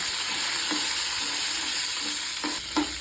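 Green chillies, urad dal and tamarind frying in oil in a pan for coriander thogayal, a steady, fairly loud sizzle with a couple of brief spatula scrapes near the end.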